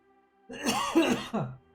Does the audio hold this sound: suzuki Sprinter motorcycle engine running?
no